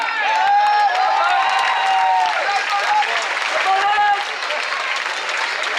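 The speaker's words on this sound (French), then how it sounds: "plus fort que ça, vos applaudissements, chers amis, s'il vous plaît" Crowd at a Guadeloupe Route du Rhum sailing race finish applauding and cheering loudly, with whistles and shouted voices rising over a continuous roar of clapping.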